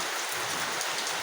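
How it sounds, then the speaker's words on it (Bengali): Steady rain falls outdoors, a dense, even hiss of drops pattering on surfaces, close and continuous throughout with no voices. "দেখেন বোঝাই যাচ্ছে যে কীভাবে বৃষ্টি পড়তেছে।"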